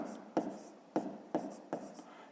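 Pen or pencil writing out a fifth-grade math exercise by hand, four or five short scratchy strokes at an even rhythm, close and quiet, with no one speaking.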